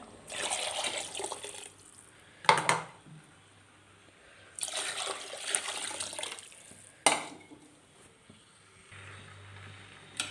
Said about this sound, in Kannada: ಎಷ್ಟು ಬೇಕೋ ಅಷ್ಟು ನೀರು ಹಾಕ್ಕೊಂಬಿಡೋಣ